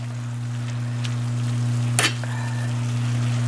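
Greens simmer in a pan with a soft steady sizzle over a constant low hum, broken by one brief clatter of a utensil near the middle.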